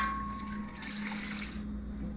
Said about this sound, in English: I'm just going to go ahead and pour a little bit of this in.